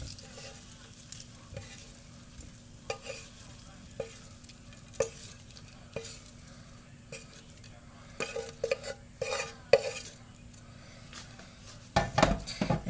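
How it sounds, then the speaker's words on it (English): Roasted Brussels sprouts lifted from a pan, with scattered scrapes, clinks and utensil stirring against the metal over a faint background sizzle, moderately quiet and close, with a louder clatter near the end. "But let me get them out the pan."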